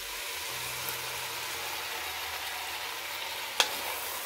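Onion, garlic, hot pepper and bell pepper fry quietly in a pan for a vegetable dish, giving a faint, steady sizzle with one sharp clink partway through and no voices.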